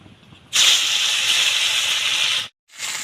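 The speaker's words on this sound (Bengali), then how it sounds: "তেল গরম হয়ে গেছে মাছ ভেজে নিচ্ছি" Salt-and-turmeric-rubbed fish hits hot oil in a pan and sizzles at once, a loud, steady, close spitting hiss that breaks off abruptly for a moment and then starts again.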